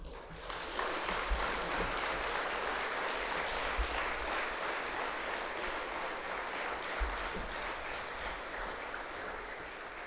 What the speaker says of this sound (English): Parents, don't you think everyone deserves a round of applause for the hard work and dedication during this school year?